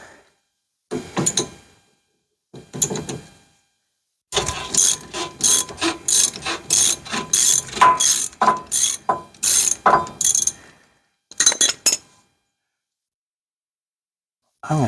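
A ratchet loosens leaf spring shackle bolts on a Suzuki Samurai, clicking in quick close bursts of rapid pawl ticks separated by short silences, with a single sigh partway through.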